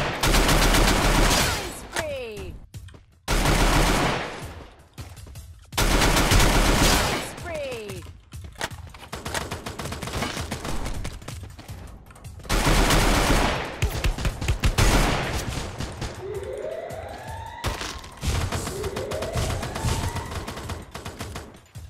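Loud bursts of rapid gunfire and explosions from the Free Fire battle royale video game, coming in repeated volleys separated by short pauses, with whooshing projectile sounds between shots.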